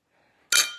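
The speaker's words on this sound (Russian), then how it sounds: "Они без меня чокаются." Glasses clinking together in a toast between people drinking beer, a single bright ringing clink after near silence, close and clear with no voices.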